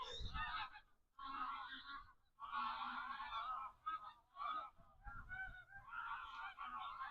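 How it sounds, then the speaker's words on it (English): A flock of geese honking loudly and repeatedly at feeding time, the calls overlapping in bursts with short gaps, close by near an abandoned mansion in Scotland. "Must be feeding time for the geese."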